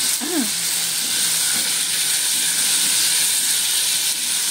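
Chicken liver fries in a pan with star anise and cracked black pepper for adobo, giving a loud, steady, close sizzle and hiss that runs unbroken throughout.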